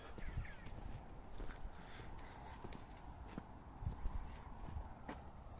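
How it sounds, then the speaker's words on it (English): Hooves clip-clop faintly as a couple of horses, one of them very small, walk across a field beyond the hedges, irregular muffled steps under steady outdoor background noise. "Couple of horses, little tiny one there, and there's another one there."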